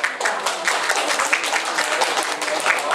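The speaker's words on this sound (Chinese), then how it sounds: "来，掌声鼓励。" Audience at a gathering honouring a traditional Chinese medicine master breaks into applause, a dense patter of clapping filling the room from start to finish at moderate loudness.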